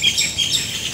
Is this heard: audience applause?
no